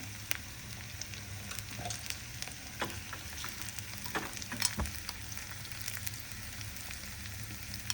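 Cumin seeds and asafoetida sizzle steadily in hot oil for a dal tadka, a close, continuous frying hiss with scattered small pops and crackles throughout.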